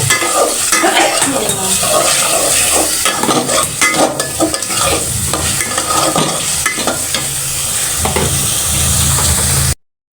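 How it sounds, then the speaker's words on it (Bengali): Potatoes and spice paste being stir-fried in a pan for a Bengali fish and eggplant curry, with steady close sizzling and repeated scraping of a spatula, continuous and loud without talk. "আমাদের মশলাটা কষা হয়ে গেছে এখন আলু দিয়ে আরেকটু ভালো মতো কষাই নেব"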